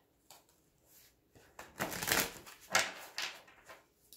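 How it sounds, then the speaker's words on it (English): Tarot cards being shuffled before a reading, giving a few soft riffling and crisp papery bursts, close and fairly quiet with no talk. "One more shuffle."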